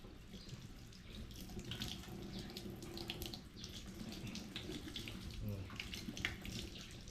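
A newly installed faucet runs steadily, water splashing continuously throughout at moderate level with no talk, a slight surge toward the end.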